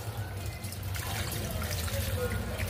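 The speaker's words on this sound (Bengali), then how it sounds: "হালকা একটু ঝোল দিয়ে দিব" A little thin gravy trickling and pouring into a small-fish curry (chorchori) in a pot, a steady soft liquid stream close by, with a faint low background hum.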